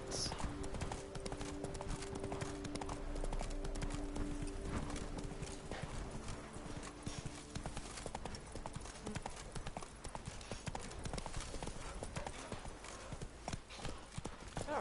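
Roach, Geralt's horse in The Witcher 3, galloping with rapid, steady hoofbeats up close, a horse whinny surfacing early on; a voice speaks briefly over the hooves.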